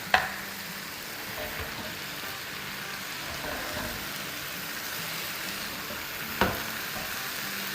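Carrots and mushrooms sautéing in a pan over a high flame give a steady low sizzle throughout, with a couple of sharp clatters of utensil on pan near the start and again later.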